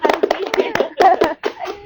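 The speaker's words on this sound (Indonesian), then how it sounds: "tepuk tangan dulu lah, Om." A small group claps their hands in an indoor talk-show setting, a quick run of uneven, close claps with a brief pause near the end.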